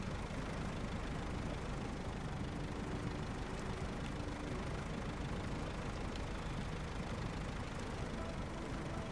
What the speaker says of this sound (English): This thing sounds like it has a lawnmower engine in it.